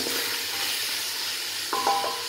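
A pot of meat kabsa with added water simmers in a steady, soft hiss of bubbling, quiet and continuous, with a brief clink of a utensil near the end.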